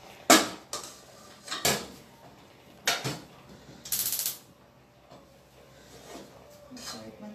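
A spoon of butter goes into a small saucepan for béchamel sauce, with several sharp metallic clinks and scrapes of spoon against pan spaced a second or so apart.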